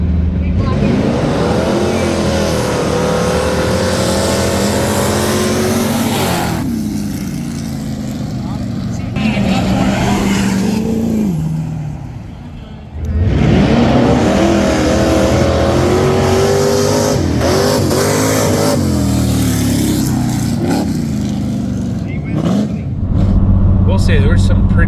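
Big lifted diesel trucks rev their engines loudly at a mountain diesel show, the heavy roar swelling and easing in long bursts with a brief lull in the middle, while people talk over the noise.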